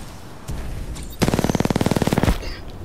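Sentry turret in a video game firing a rapid burst of automatic gunfire, about a second long, loud and close after a short quieter stretch of game sounds.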